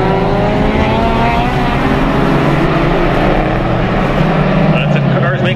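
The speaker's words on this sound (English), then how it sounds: "You can hear the squealing tires from all the way up from here." Closed-wheel race cars brake hard into turn three at a circuit, with tires squealing. The loud, continuous engine and tire noise is heard from a distance above the track, under a commentator's talk.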